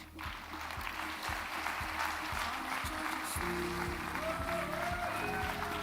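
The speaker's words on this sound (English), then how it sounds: "Big round of applause." Audience applause at a conference closing ceremony as a speaker is welcomed to the stage. Steady, dense clapping runs throughout at an even loudness, with a faint tonal sound entering partway through.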